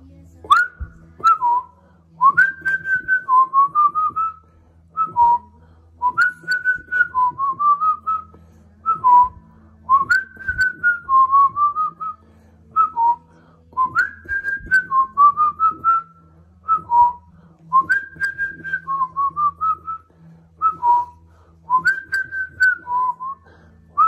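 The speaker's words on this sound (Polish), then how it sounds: "Ładnie gwiżdżę?" A person whistles a repeating melodic tune, clear and close, in phrases of quick notes separated by short pauses and a soft background hum.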